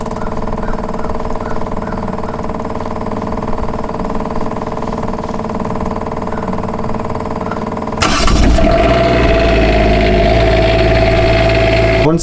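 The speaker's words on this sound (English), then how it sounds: "Let's locate our generator and turn it on." RV generator engine running steadily in a constant mid-pitched drone, close and loud, then rising in load and tone partway through as a heavier, rougher hum with a faint whine.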